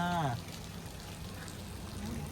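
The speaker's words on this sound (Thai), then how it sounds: "ฝนตกครับ ฝนตกใหม่ๆเลยครับ" Fresh rain falls as a steady broadband hiss right after a storm, a voice briefly heard at the start over the continuous patter.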